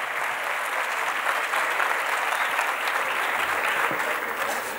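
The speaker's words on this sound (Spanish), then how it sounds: "¡Dese un fuerte aplauso!" A large crowd of around 800 students applauds at a student leadership showcase welcome event, a sustained dense wash of clapping throughout.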